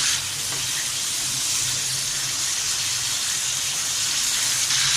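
Beef liver (kaleji) frying in ghee, a steady close bright sizzle and hiss that continues evenly without pause.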